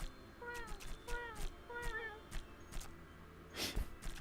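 Meow sound effects from cats attacking a cow in an indie action game: several short rising, tonal meows in a quick series, moderately loud over a busy game soundtrack with a few sharp hits.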